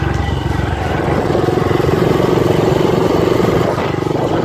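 A motorcycle with a barbecue grill mounted on it revs and accelerates up to speed, a steady loud engine drone with a pulsing low rumble that holds throughout.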